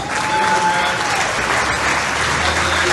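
An audience at the Ottawa LRT light rail opening ceremony claps in steady, dense applause, loud and filling the room, with no pause over three seconds.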